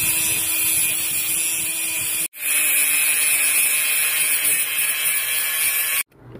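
Power tool cutting through a length of steel rebar for scrap metal art, a loud, continuous high-pitched grinding whine that cuts off abruptly twice, close to the microphone with no talking.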